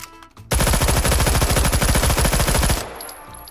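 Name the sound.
Bison SMG firing in video game H3VR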